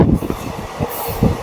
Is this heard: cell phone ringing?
no